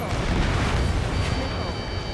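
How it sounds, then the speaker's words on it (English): An explosion in the video game Ace Combat 7: Skies Unknown rumbles as a deep, sustained boom with crackling debris, with voices talking over it. "An explosion inside!"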